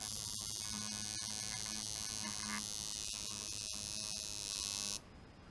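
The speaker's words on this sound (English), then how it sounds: "listen how the machine sounds now that I've doubled up this rubber band and put too much tension on it" Coil tattoo machine with a doubled, over-tensioned rubber band buzzing steadily and loudly, a strained, bright whine that holds evenly for about five seconds before cutting off abruptly.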